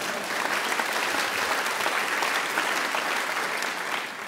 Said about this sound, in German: das ist auch so ein schüchternes Klatschen